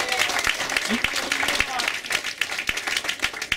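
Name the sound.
audience applause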